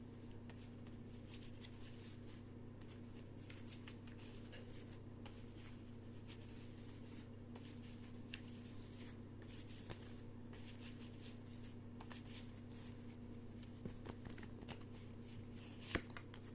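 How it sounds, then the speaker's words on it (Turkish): Fortune-telling cards being shuffled and drawn for a reading, producing soft, continuous papery riffling and light flicks close by, with a faint steady hum underneath and one sharper snap near the end. "Hadi bir de kart çekelim bakalım kartımızda ne çıkmış."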